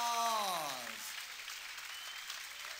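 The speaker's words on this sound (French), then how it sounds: "A terrific round of applause." Crowd applause after a professional boxing match, a broad wash of clapping that starts under an announcer's trailing voice and continues steadily, moderately distant.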